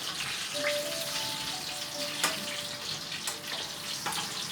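Zucchini slices sizzle and crackle in hot frying oil in a home kitchen, a steady close hiss with occasional sharper pops and no talking.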